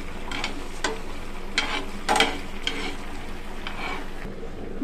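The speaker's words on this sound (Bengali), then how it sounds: "মশলাটা এমনভাবে ভাজতে হবে যাতে পুড়ে না যায়, একটা সুন্দর ঘ্রাণ আসা পর্যন্ত ভাজতে হবে।" Masala spices dry-frying in a pan, stirred so they toast without burning: a steady soft sizzle broken by intermittent scraping and clinking stirring strokes, close and moderately loud.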